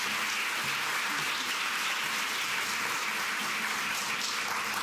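A college audience at Mills College applauds its president with loud, sustained, even clapping that stays full and close throughout.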